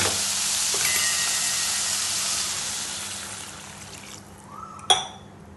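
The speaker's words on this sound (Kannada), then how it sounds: "ನೀರು ಹಾಕೋತೀನಿ ನೋಡಿ." Water poured into a cooking pot while making sweet corn soup, a steady hissing rush that tapers off over several seconds and ends with a sharp clink, with no talking.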